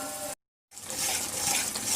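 Semolina and flour halwa cooking in ghee, a close sizzle with stirring scrapes; the sound cuts out briefly near the start, then returns loud and continuous, with no voices.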